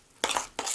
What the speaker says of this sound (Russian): Когда добавляем соду, вон смотрите, как шипит